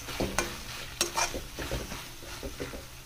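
A spatula stirs fresh coriander into oil-free paneer bhurji in a pan, giving quiet, irregular scrapes and metallic clinks over a faint sizzle.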